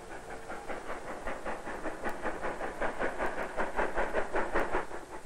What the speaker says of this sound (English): He hears the train coming into the station and knows he can't linger any more.